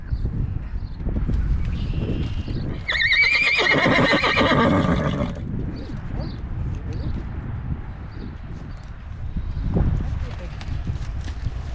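A mare gives a loud, shaky whinny lasting about two seconds over wind and outdoor rustle, with a second fainter call later and people talking nearby.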